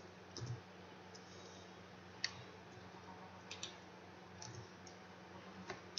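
A few faint, isolated computer mouse clicks, spaced seconds apart, over a quiet low hum in a still room.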